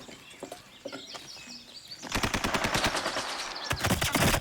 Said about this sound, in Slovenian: En je zares metki strelil.